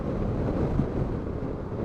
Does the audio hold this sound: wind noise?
yes